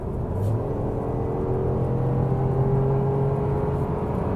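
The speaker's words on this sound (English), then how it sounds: "we can do the acceleration when we're already at speed 100 to 120" A 2021 BMW X1 xDrive25e plug-in hybrid accelerating from 100 to 120 km/h, heard as a steady low whir and rumble of engine and road noise inside the cabin, rising gently with no talk.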